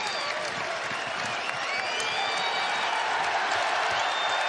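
A packed arena crowd at a Marquette college basketball game against Baylor roars and applauds continuously, a dense, loud wall of cheering and whoops with a voice faintly mixed in.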